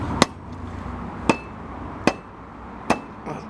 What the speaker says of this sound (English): I managed to hammer it down using this heavy iron weight